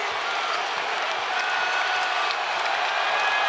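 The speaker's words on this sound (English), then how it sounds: "they've got this crowd on its feet again" A basketball crowd at a Kentucky vs. Louisville men's game cheers and applauds as a steady, dense roar that holds throughout, with no clear voices standing out.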